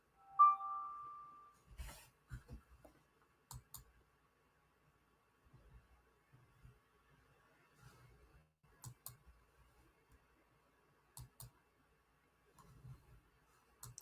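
A notification bell gives one short, bright chime right at the start, then soft scattered clicks follow in a quiet room.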